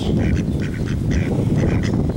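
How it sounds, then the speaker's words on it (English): Several small ducks quack repeatedly close by on a morning walk, short nasal calls overlapping in quick bursts over low outdoor rumble. "A few little ducks over here."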